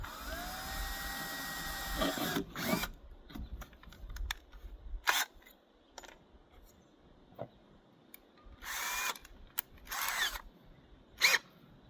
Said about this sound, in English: I'm going to drill a hole and put a screw